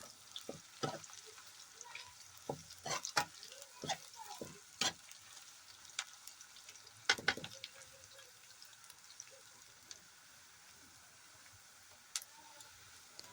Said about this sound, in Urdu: أتھۍ تیٖلس منٛز کرو أسۍ گنٛڈٕ اکھ فراے